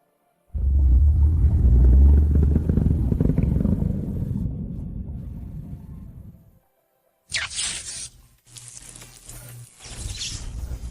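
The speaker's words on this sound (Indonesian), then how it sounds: "Ada serigala mutan yang sangat menakutkan." A monstrous mutant wolf in an animated fantasy story lets out a long, loud, deep growling roar lasting several seconds, followed after a short pause by harsher, hissing bursts of creature noise.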